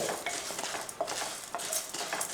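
Chana dal and urad dal stirred in a pan while making murukku, a light scraping and rattling of dry lentils against metal that keeps going steadily, with soft clinks and nobody talking.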